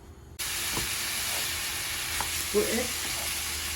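Pieces of beef dropped into a hot pan for a Turkish sac kavurma-style dish sizzle and hiss steadily at close range, with a brief spoken word over the frying.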